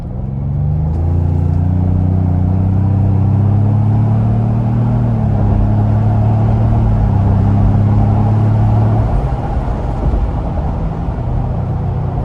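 A 2026 Ford Bronco Outer Banks with the 2.3-liter engine pulls hard up an interstate on-ramp in sport mode, its engine note climbing in steady rising harmonics and droning loudly from inside the cabin before settling into road rumble.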